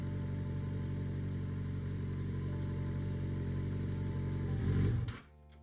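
A Yamaha XJ6 motorcycle engine idles steadily with a low, even throb, circulating coolant, rising briefly before cutting off at the end.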